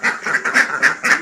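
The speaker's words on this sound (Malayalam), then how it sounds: "ഇതൊക്കെ എൻ്റെ കോഴിയും താറാവുകളും ഒക്കെയാണ് കേട്ടോ" Backyard ducks kept with chickens at a home give about five loud, nasal quacks in a steady rhythm, close by and clear, with no one speaking.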